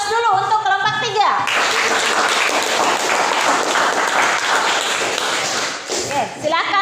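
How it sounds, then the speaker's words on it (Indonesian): A classroom group claps loudly in appreciation of student group 3 after their presentation, a dense burst of many hands lasting several seconds. A voice speaks briefly before the applause and again as it fades. "aplaus dulu untuk kelompok 3"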